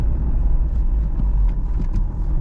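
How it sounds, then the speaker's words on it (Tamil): A car with 100,000 km on it climbs a slope, its engine a continuous low rumble heard from inside the cabin, steady and fairly loud with slight surges. "டார்க்கு செம்மையாக இருக்கா, லைட் ஆகிறதுனால ஏறுது வண்டி."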